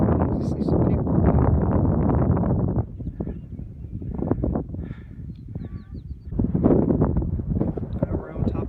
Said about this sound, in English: We're on top of Max Patch. I know it's windy.